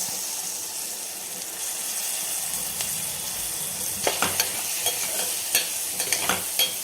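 Green chillies fry slowly in oil over a low gas flame, giving a steady soft sizzle with a cluster of sharper spatters and stirring clicks near the end.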